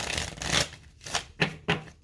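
Tarot cards being shuffled in several quick riffling bursts, close and crisp, with short pauses between them.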